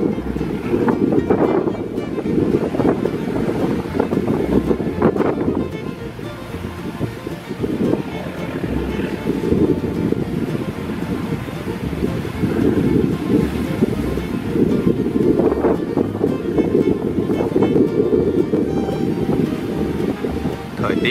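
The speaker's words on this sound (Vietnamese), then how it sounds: "Thời tiết hôm nay rất là gió luôn" Strong wind roars over the sea, mixed with waves and the low drone of a Binh Dinh purse-seine fishing boat, as constant loud wind noise batters the microphone.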